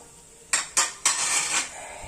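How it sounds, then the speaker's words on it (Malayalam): A spoon stirs ragi laddu mixture with cardamom powder, raisins and peanuts in a pan. It makes two sharp metallic scrapes and then a longer grinding scrape, close and clear, with no voices. "ഇതിന് നല്ലതുപോലെ നമുക്ക് ഇളക്കിയെടുക്കാം"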